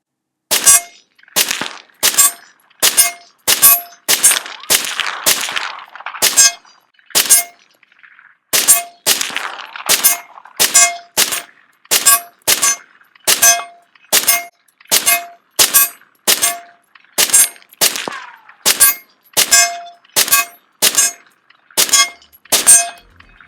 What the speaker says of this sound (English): So let's take a few more shots with this gun.